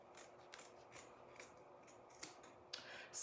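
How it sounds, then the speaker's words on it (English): Scissors snipping through canvas fabric at close range, a few soft irregular cuts at a quiet level, with a louder, sharper snip near the end. "I know this is not exciting to sit here and watch me cut"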